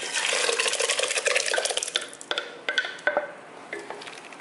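Moong dal and jaggery payasam being stirred inside a pressure cooker, a spoon scraping and clinking against the metal pot in quick repeated strokes that thin out into scattered taps, close and fairly loud with no talk.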